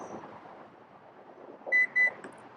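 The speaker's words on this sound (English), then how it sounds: "push and hold, listen for 4 beeps, keep holding, listen for 2 more" The liftgate button on a Lexus UX gives two crisp electronic beeps in quick succession, clear over a faint background hiss.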